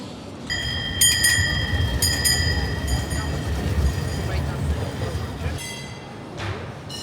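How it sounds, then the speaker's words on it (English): A tram runs up the middle of a busy Istanbul shopping street, its steady low rumble carrying under crowd chatter while a bright bell clangs repeatedly in short bursts. "You get these trams going right up the middle."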